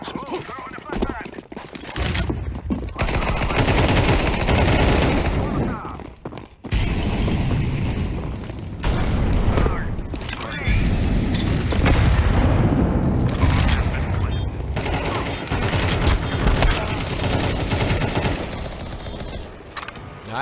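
A flashbang goes off amid dense gunfire during a tactical shooter match, loud sustained bursts of shots and bangs filling the whole stretch with only brief lulls.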